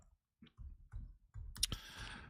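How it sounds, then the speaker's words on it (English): Typing on a computer keyboard with one hand gives faint, scattered clicks at an uneven pace, then a denser, louder cluster of taps near the end, heard alone. "Typing with one hand."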